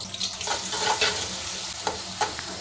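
Medium-sized sliced onion frying in hot oil for chicken pulao, a soft steady sizzle with intermittent spoon stirs and scrapes, close and fairly quiet, no voices.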